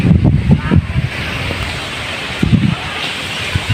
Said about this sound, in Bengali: এই দেখতে পাচ্ছেন অনেক বাতাস হতেছে